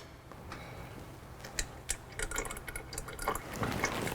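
Fluid draining from a worn Mitsubishi EVO5 car, a quiet, steady trickle with scattered drips and small splashes that become slightly louder and denser toward the end.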